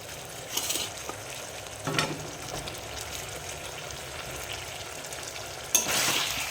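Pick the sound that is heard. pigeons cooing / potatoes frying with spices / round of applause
potatoes frying with spices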